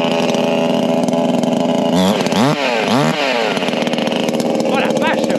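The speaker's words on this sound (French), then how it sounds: "apparemment, Flo a une tronçonneuse, ce qu'on appelle la TDS dans le dicton." A chainsaw runs outdoors, a loud, steady buzzing engine with a couple of rising and falling revs in the middle, while people talk over it.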